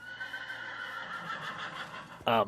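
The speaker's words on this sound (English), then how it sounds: "I was constantly hearing horse noises, and it was so annoying." A horse in Minecraft neighs in a drawn-out whinny over a steady background hum, ending with a brief louder burst of sound.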